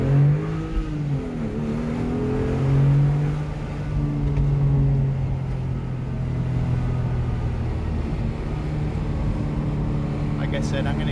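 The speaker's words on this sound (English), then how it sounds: "I'm going to get the RPMs up there" Porsche 997 Gemballa Avalanche tribute engine climbs toward high RPM from inside the cabin, a loud steady droning rumble with rising pitch sweeps, sustained throughout with some talk over it.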